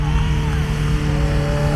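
An off-road truck engine labors steadily as the truck climbs a hill at an off-road games event, a continuous near rumble with a sustained drone and no pauses, while voices speak over it.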